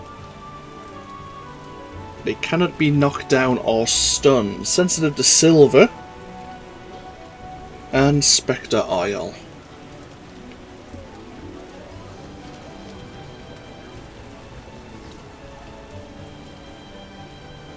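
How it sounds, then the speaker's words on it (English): Heavy rain pours down in The Witcher, a constant hiss of drops on the ground under a voice talking over it in short bursts. "Raining so hard I can't see anything."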